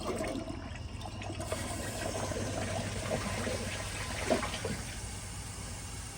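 A 2004 Kohler Highline Ingenium toilet flushing a microfiber cloth, a steady rushing, gurgling swirl of water heard close up, with a brief louder gulp near the end.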